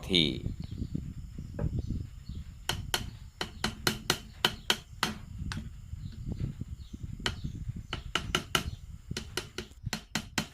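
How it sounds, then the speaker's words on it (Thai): A hammer taps sharply again and again in quick, uneven bursts, close by, driving a new seal onto the rear axle of a Kubota L3408DI tractor, with a low mechanical rumble between strikes. "แล้วก็นำซีนตัวใหม่มาใส่เข้าไป ใช้ค้อนเคาะให้เข้"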